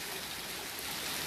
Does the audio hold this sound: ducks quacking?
no